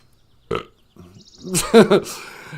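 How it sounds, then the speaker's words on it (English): A loud, close burp that rises and gurgles for about half a second near the end, preceded by a few short soft sounds in a quiet indoor setting. "As I burp unromantically."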